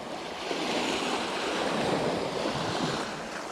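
Steady sea surf washes around a fishing boat on open water, a continuous broadband roar with gentle swells in loudness and some wind buffeting, with no talk.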